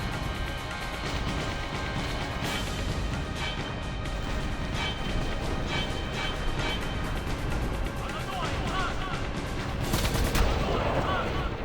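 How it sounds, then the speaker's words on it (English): Gunfire at a fiend in Final Fantasy X, rapid repeated shots crackling as a dense burst over continuous loud battle noise, with a louder crash near the end. "someone firing a gun as well at a fiend"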